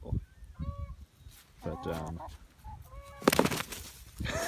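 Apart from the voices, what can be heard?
rooster and chickens on a farm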